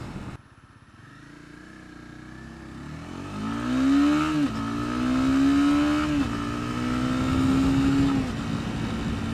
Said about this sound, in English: So that's how it picks up off the line.